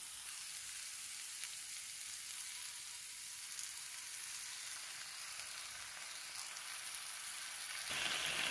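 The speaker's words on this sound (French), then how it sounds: "Je laisse les oignons colorer un petit peu et ensuite je rajoute un tout petit peu d'eau" Chopped onions frying and softening in a pan, a steady close hiss of sizzling that brightens and grows slightly louder near the end, with no talking over it.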